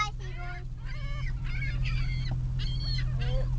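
Several seagulls call at a feeding spot, with repeated squawking cries over a steady low rumble of background noise, fairly close and loud.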